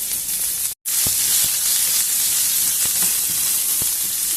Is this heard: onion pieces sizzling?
yes